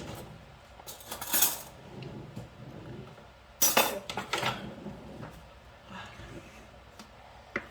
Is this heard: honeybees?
no